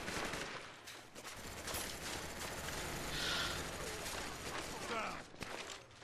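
Famas rifle fire in Call of Duty: Black Ops, a dense continuous rattle of gunshots and game effects, with a player's voice talking over the busy battle noise.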